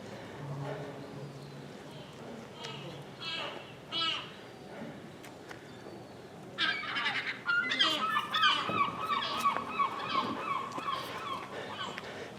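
Loud, raucous seagull calls burst out in repeated harsh squawks partway through, over faint background talk and outdoor ambience in Cromarty, Scotland.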